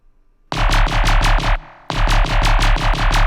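Jump-up drum and bass laser stabs built from a Serum bass layered with a deep sub play loud and dense: a fast run of repeated gritty stabs, a brief gap, then the pattern returns.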